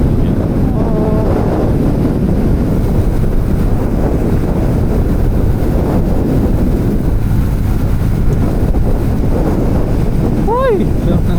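Strong wind roars constantly over the microphone during a fast motorcycle ride on a Honda Winner X along an open road, loud and unbroken, with a brief vehicle sound near the end.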